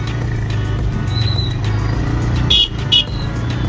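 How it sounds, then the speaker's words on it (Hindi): Heavy road traffic in Dhanbad, with a steady low rumble of car and motorcycle engines passing close by and brief high horn toots breaking through near the end. "ट्रैफिक बहुत ज़्यादा रहता है, धनबाद का ये बहुत बड़ा प्रॉब्लम है"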